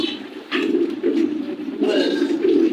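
Racer pigeons, a female among them, coo with low, throaty repeated calls close by, in a steady series with brief pauses between phrases.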